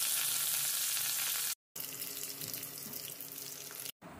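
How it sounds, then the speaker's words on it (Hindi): Jackfruit pieces fry in hot oil in a home kitchen, giving a loud, steady crackling sizzle that cuts out briefly twice. "अब तेल गर्म हो गया है, इसमें हम कटहल को फ्राई करते हैं।"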